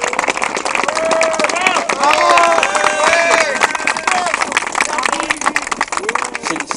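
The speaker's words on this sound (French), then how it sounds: "on peut déjà applaudir les camarades chaleureusement pour leur action" Crowd gathered at a Fraisnor site support rally applauds warmly, dense steady clapping mixed with cheering voices and general chatter all around.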